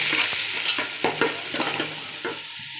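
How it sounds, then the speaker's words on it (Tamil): Onions sizzle in a hot pan while a utensil stirs and scrapes, giving soft irregular clicks over a steady frying hiss. "இப்போ நம்ம நறுக்கி வச்சு வெங்காயத்தை வதக்கி வச்சுக்கோ"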